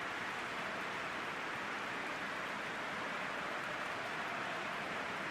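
Rain falls steadily on a stadium pitch during a football match in the video game PES 2021, a dense, even hiss with no breaks and no voices over it.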